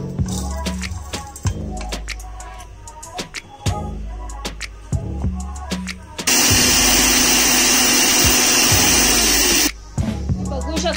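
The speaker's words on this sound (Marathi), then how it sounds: "आता आपल्याला ह्याला मिक्सरमध्ये ग्राइंड करायचं आहे।" A kitchen mixer grinder coarsely grinds roasted rice in one loud, steady whirring burst of a few seconds. Clattering and talk come before it, and the machine cuts off abruptly.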